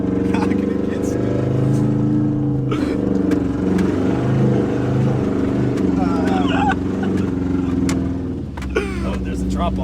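A Subaru with open headers labours across soft beach sand, its loud raspy exhaust droning steadily throughout, with engine notes rising and falling as it pushes on, while people talk excitedly over it.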